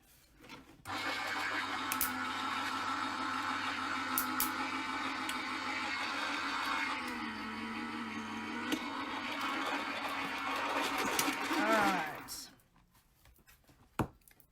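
A manual die-cutting machine runs continuously as a Stampin' Up card is cranked through it, giving about eleven seconds of loud, steady grinding and rumbling that ends with a falling whine, followed by near silence and a brief click.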